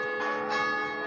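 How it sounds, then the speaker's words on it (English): Church bells ring loudly and continuously, their sustained tones overlapping and resonating without pause, with no talking over them. "God, those bells."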